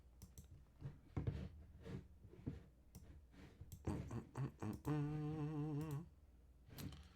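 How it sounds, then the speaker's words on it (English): Computer keyboard and mouse clicks tap out in quick irregular bursts at close range during editing, with a brief tonal hum in the middle. "So much clicking to do."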